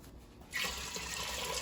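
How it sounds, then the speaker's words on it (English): Water gushes from a tap or jug onto dried beans in a pressure cooker pot, a sudden steady splashing pour starting after a short quiet moment, close and fairly loud. "So to the beans, I'm just adding a couple quarts of water."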